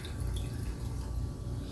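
Freshly opened Diet Coke is poured into a glass at a bar, giving a steady fizzy splashing stream that lasts the whole moment, close and without talk.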